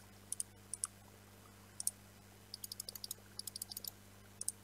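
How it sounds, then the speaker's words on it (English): Computer mouse clicks during Minecraft play, sharp crisp taps coming singly at first and then in quick bursts of several, close to the microphone over a faint low hum. "you're going to hear my mouse clicking a whole lot more than you used to"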